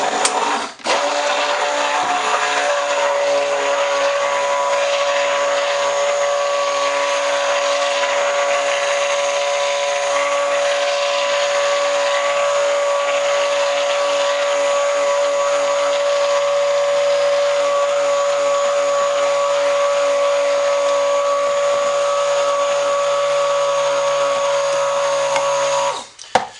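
A blender whirs steadily and loudly as it mixes thick chocolate coffee soap batter, a constant motor drone with a high whine that runs almost the whole time before cutting off at the end.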